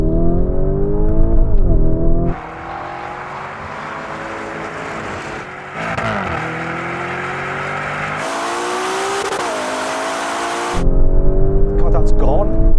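A Ferrari Purosangue or Lamborghini Urus SUV in second gear, manual mode, accelerates hard with a loud rising engine roar and shifts pitch through gear changes, alongside heavy wind and cabin noise.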